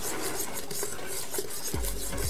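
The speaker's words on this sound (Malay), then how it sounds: "tolong gaulkan CMC tu sedikit dengan gula" CMC thickener being mixed with sugar by hand while making pineapple juice for sale: a dry gritty rasping and scraping of granules stirred in a container, close and steady, with a few sharper scrapes toward the end and no talk.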